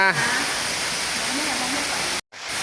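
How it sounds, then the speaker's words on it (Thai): A waterfall at a dinosaur museum gives a steady, full rushing hiss that fills the whole stretch, with a voice briefly heard at the start and a short cut near the end. "ตรงนั้นมีน้ำตก"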